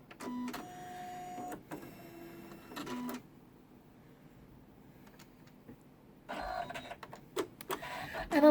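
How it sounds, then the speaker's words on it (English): Embroidery machine stitching a keyhole on a quilt block in the hoop, heard as two bursts of close, busy mechanical whirring and clatter separated by a few quiet seconds. "So now we are up to stitching the keyhole."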